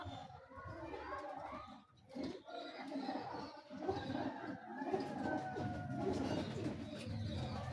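Domestic pigeons cooing steadily at close range, soft low throaty coos repeating throughout amid faint room noise and occasional quiet human voices.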